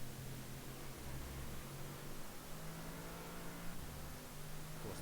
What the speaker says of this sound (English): Bentley just sounds so rumbly and aggressive at the same time